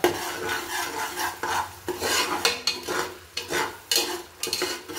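Onions dusted with turmeric fry in oil for a country-style head-and-trotters mutton sambar, stirred in repeated scraping strokes over a close, crackling sizzle.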